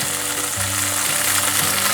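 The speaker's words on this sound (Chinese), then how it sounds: "先让豆腐煎一煎" Tofu cubes, blotted dry and started in cold oil, pan-fry over low heat with a steady, close hiss of sizzling that holds evenly throughout, alongside a faint low hum.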